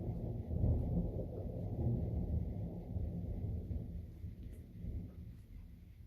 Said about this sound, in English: I'll let you listen to the thunder.